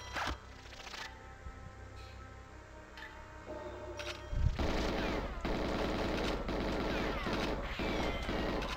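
Rapid bursts of automatic gunfire from the video game GoldenEye 007 rattle loudly, with dense repeated shots that get heavier and more continuous midway through.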